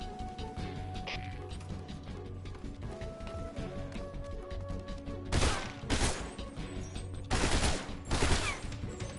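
Gunfire in the stealth video game Metal Gear Solid Delta: Snake Eater, a few loud sharp bursts of shots standing out in the later part over low ambient game sound and music.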